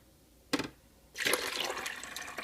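Water pours from a tilted container back into the reservoir of a Keurig coffee machine. A short splash comes first, then a steady, close gush of running liquid that lasts to the end.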